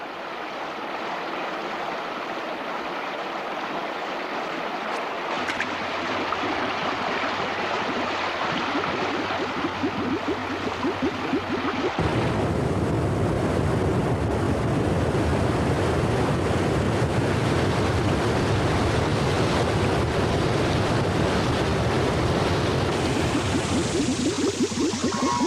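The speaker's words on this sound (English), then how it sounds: "In the pools below the falls, the water is turbulent, but clear and well oxygenated." Turbulent water in a mountain stream rushing through pools below a waterfall in Hong Kong, a steady, loud, broadband roar that swells and thickens midway and continues unbroken to the end.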